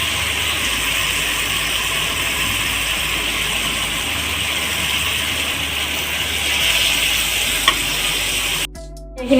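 Banana flower and potatoes fry in a pan with a steady, close sizzle while a spoon stirs them in scraping, rattling strokes. A few louder knocks come near the end, and no one speaks.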